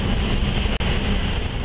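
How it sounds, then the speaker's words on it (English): Freight train cars rolling past trackside in the Columbia River Gorge produce a loud, steady low rumble and rushing noise, broken by a single brief gap. No one speaks. "I hear some freight cars going by"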